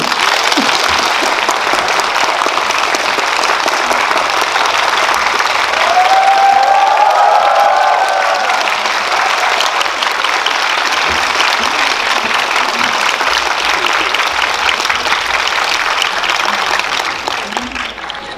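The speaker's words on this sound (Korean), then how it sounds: "큰 박수 맞아주세요" Sustained, loud applause fills a packed cinema hall at a CGV Yeongdeungpo event welcoming the Frozen 2 directors and producer on stage, a dense crowd of clapping that holds steady before easing off at the end.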